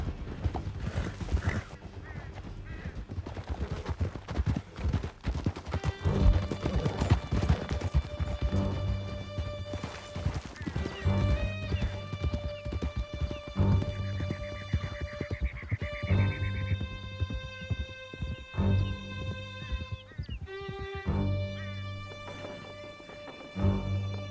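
Horses galloping in Red Dead Redemption 2, rapid hoofbeats drumming steadily under loud orchestral music for the whole stretch.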